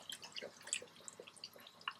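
Water poured into a pot of mutton chops while cooking, with soft dripping and splashing spread across the clip, fairly quiet and close, with no talking.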